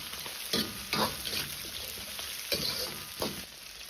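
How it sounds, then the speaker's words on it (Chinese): Goose meat stir-fried in a wok with Sichuan peppercorns, chilies and Pixian doubanjiang: a steady sizzle with several sharp scraping bursts of the spatula at irregular intervals, close and moderately loud. "接着倒入花椒、辣椒和10克左右的郫县豆瓣酱，炒出香辣味和红亮的颜色"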